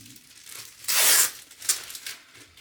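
Adhesive tape torn off a roll during a DIY speaker build, one loud broadband rip lasting about a third of a second, followed by a few faint crinkles and a short tearing scrape.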